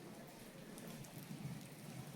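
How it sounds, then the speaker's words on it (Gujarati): First rain of the season falls steadily in a residential housing society, a continuous close hiss of drops striking surfaces with no voices over it. "પહેલો વરસાદ આવી ગયો છે"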